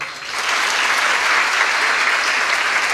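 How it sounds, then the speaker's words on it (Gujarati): A seated crowd at a public function claps to honour parents of daughters, a loud, dense and sustained round of applause that swells within the first half second and holds steady. "આ મા બાપને એક વખત તાળીઓથી વધાવો."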